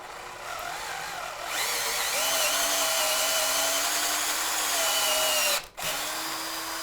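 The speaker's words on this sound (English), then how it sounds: "Nice drill bit, that is." A power drill whines steadily at close range as it bores through wood for a chair arm, starting up, running continuously, then briefly cutting out before resuming.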